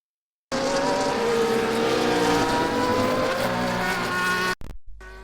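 Race cars in an EXA X2 series round in Mexico roar loudly and continuously as engines rev and tires squeal crossing the finish line, the sound cutting off abruptly near the end.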